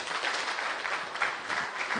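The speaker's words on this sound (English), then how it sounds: "All right, everybody clap once." A live-stream audience claps on cue, producing a short, fairly even wash of applause at moderate distance rather than one crisp clap, with no talking over it.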